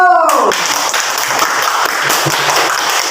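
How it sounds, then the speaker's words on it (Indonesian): Applause from a classroom of students for group 4 after their presentation, a dense steady patter of many hands filling the whole stretch after a brief voice at the start. "Tepuk tangan dulu."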